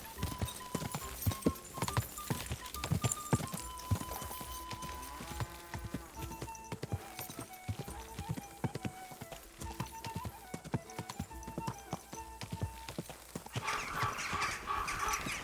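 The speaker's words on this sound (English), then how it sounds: "Sorry, Hans, my horse is not as fast as yours" Rapid rhythmic hoofbeats of a galloping horse in the video game Kingdom Come: Deliverance II pound steadily throughout, with music-like tones layered over them.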